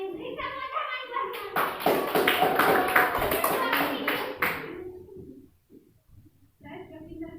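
A classroom of children claps in a brief, uneven burst lasting a few seconds, with young voices chattering around it and a teacher talking before and after.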